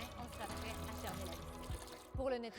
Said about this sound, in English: We'll pour it directly into the water